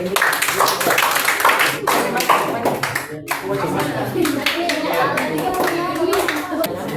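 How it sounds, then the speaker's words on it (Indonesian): A classroom of students claps for a group that has just finished presenting in a computer hardware lesson, a brisk burst of scattered hand claps mixed with children's chatter and a teacher's voice. "tepuk tangan buat mereka dulu"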